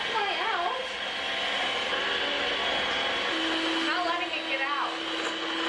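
Electric mixer beating homemade cake batter in a small bowl, a steady close motor whir with a high tonal hum, and a voice faintly under it.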